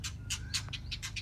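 Small garden birds chirping near a nest, a run of short bright calls repeating every fraction of a second over a steady low background hum, moderately close and with no talking.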